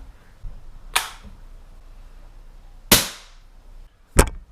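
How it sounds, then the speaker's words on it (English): A Beeman P17 air pistol gives three sharp, close snaps as it is cocked and fired after reassembly, with short quiet gaps between them. "now we hope that the gun cocks and fires."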